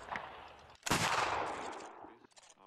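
A musket volley from the 33rd Regiment of Foot in a video game set in the Anglo-Zulu War erupts as one loud close crackling blast that rolls and fades over about a second, with a few scattered shots before it.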